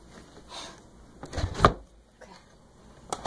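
Dresser drawer being opened, a few soft wooden scrapes and a louder thump as it slides out, heard up close in a quiet room.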